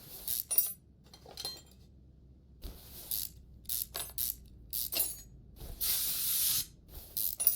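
Short bursts of aerosol spray in Car Mechanic Simulator 2021 as car front-end parts are coated, irregular hissing puffs mixed with light metallic clicks and clinks, with one longer spray toward the end.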